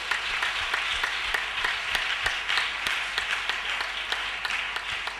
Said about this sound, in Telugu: మన చర్చ్ యూత్ వారందరికీ ఒకసారి గట్టిగా చప్పట్లు కొట్టేద్దాం.